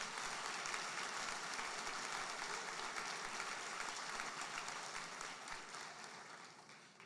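A church congregation claps during a sermon, with a soft, steady wash of applause that sounds distant and fades slowly toward the end.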